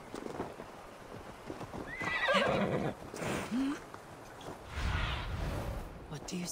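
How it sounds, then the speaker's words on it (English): A horse in the Viking-era video game Assassin's Creed Valhalla neighs in a rising whinny, then trots with clip-clopping hooves, joined by whooshing movement sounds; the game audio is moderately loud with no voices heard. "Comes my horse."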